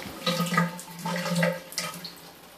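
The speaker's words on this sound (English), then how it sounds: "Shower on the hot side works." Shower running on the hot side in a bathroom tub being inspected, a steady hiss of spraying water against a faint low hum, continuous and close for the whole stretch.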